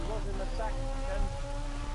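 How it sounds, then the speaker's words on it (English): Rain falls in a GT3 racing video game at the Chinese GP, a soft steady patter mixed with faint engine whine and other game sounds, quiet and continuous. "And here we are in the third and it's raining again."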